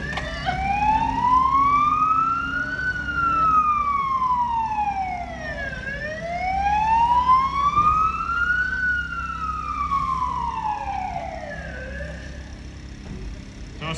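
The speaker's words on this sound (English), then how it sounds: "So a second police car has just arrived at the scene" Police car siren wailing at a road accident scene, slow rising and falling sweeps repeating about every six seconds, loud and fairly close over a low rumble of traffic.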